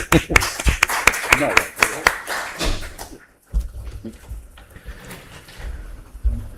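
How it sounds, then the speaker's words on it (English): Applause at a township meeting, a brief burst of clapping from a small group that stops after about three seconds, followed by quieter room sounds, thumps and speech. "How about a big round of applause for Cindy Beck doing a great job as Township Secretary?"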